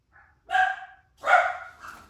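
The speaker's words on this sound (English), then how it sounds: "And you heard my dog speak up." A dog gives two loud, close barks with a short gap between them, plus a faint yip just before, heard alone in an indoor setting with no talking.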